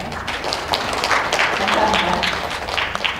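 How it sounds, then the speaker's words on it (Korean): An audience at the opening of a software test design contest bursts into dense, steady clapping, with a voice speaking over the applause. "큰 박수로 한번 시작을 알려볼까요?"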